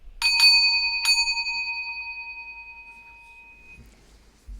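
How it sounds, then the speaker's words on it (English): A temple bell struck in quick succession near the start, then once more about a second later, each strike ringing out in a bright, sustained tone that slowly fades over several seconds. "the sound of the bell."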